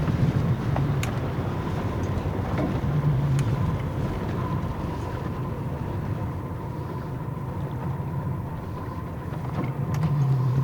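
An eagle-ray-watching motorboat engine drones steadily throughout, a low continuous hum with wind buffeting the microphone, no voices.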